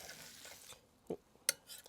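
A soft, steady sizzle from beef frying in a pan, with a couple of quick utensil clinks near the end.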